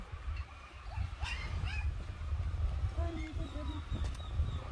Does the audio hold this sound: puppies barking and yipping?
yes